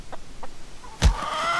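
Chickens in the video game Hollow Cocoon give two brief, faint clucks, then a sharper, louder squawk. A steady background hum continues throughout.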